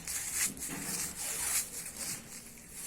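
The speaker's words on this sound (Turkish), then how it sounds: "Şimdi bir tane buzdolabı poşetini şöyle büzüştürüyorum." A plastic refrigerator bag is crumpled and scrunched by hand for a texture technique on a glazed surface, making close, soft crackling rustles in several short bursts.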